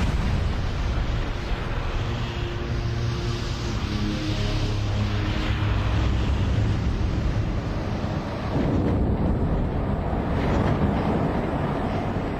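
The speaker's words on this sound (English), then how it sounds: "blade off testing is normally top secret, but for the first time, Rolls-Royce have released this footage" A Rolls-Royce jet engine during a blade-off test, a loud, continuous roaring rumble of a turbofan running at high power with a brief shift near the end, heard up close with no voices.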